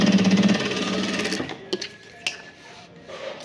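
A sewing machine stitches a pocket onto sublimated fabric with a fast, steady mechanical whir for about a second and a half, then stops, leaving only a few small clicks and handling noises.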